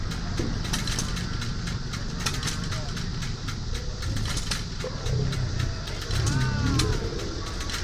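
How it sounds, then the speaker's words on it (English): A Caterpillar engine runs with a steady low rumble while people talk nearby and birds call faintly in the background. "There's a Caterpillar engine."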